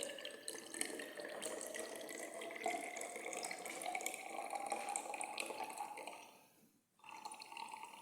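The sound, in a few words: distilled water poured to top up volumetric flask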